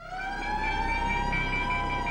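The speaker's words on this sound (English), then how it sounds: "air raid sirens across England signaled the approach of war" Wailing siren, likely a civil-defence air raid warning from 1939 England, holding a steady rising tone with bright harmonics, loud and close throughout with no voices.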